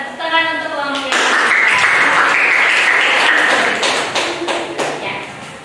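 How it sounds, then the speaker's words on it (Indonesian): Classroom applause for a student group during a teaching-practice session, a voice fading out first, then a burst of close, dense clapping that holds steady before tapering off. "tepuk tangan untuk kelompok yang"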